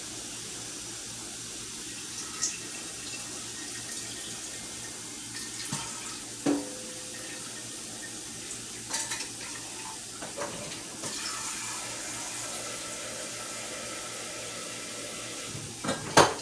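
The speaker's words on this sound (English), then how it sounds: "we're going to start our water for our broccoli" Tap water runs steadily into a pot, about half a cup for steaming broccoli, as a soft continuous hiss with a few light knocks and clinks of cookware, with no talking.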